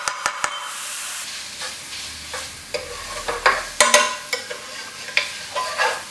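Finely cut bhunna-style onions sizzle and fry in a pan for a restaurant-style king prawn balti, with steady hissing broken by repeated sharp scrapes and clacks of stirring.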